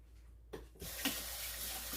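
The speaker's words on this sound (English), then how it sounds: "Rinse my hands." Hands being rinsed under a running kitchen tap: a short, steady hiss of flowing water that starts abruptly and splashes on close by, with no talking.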